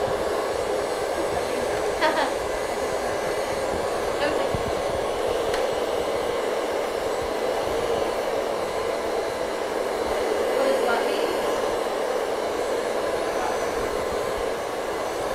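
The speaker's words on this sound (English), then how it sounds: "I'm keeping a constant flow of the air using the nozzle of the blow dryer" A handheld blow dryer pushes a constant stream of air through its nozzle while drying hair during a haircut, a loud steady broadband roar held the whole time with a few faint clicks over it.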